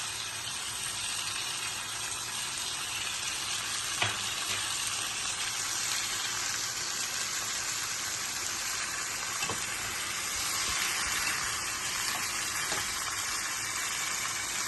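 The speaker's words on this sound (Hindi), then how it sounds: "चिकन को जो है 2 मिनट के लिए फ्राई करना है" Chicken fries in a karahi pan for a chicken karahi, a steady soft sizzle and hiss running throughout with a few faint clinks, and nobody speaking.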